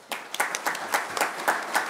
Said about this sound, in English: we give a round of applause to the parents of these students